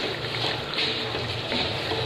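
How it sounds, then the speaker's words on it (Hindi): Olive oil is poured into a spice masala cooking in a pan for a chickpea curry, making a dense, continuous hiss and sizzle that stays close and even throughout. "जैसे कि अब हम जैतून का तेल डाल रहे हैं"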